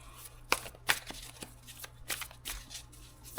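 Tarot cards shuffled by hand, close and fairly quiet, with a few sharp riffling bursts and softer sliding flicks in an irregular rhythm over a low steady hum.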